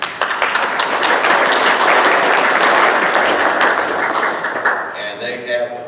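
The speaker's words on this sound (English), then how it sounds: "Please give them a warm round of applause." Warm audience applause at a land leasing forum, loud dense clapping from a room full of people that fades out near the end as a voice begins.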